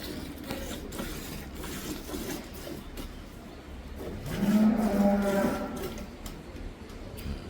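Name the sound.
dairy cows being milked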